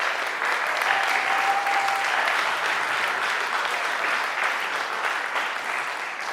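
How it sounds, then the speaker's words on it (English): Audience applause after a TEDx Youth talk, a full, steady wash of clapping from many hands that stays loud for several seconds before easing slightly. "Please, another round of applause"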